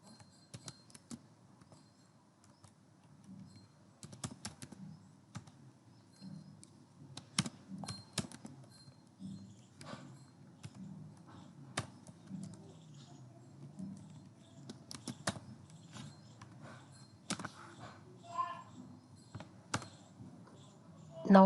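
Keys clatter on a computer keyboard as Android app code is typed, irregular bursts of clicks running steadily throughout with a low background hum, no voices.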